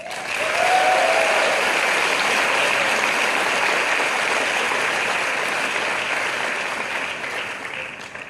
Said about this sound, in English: So please give a round of applause to OCP, UM6P, and Africa Advisors.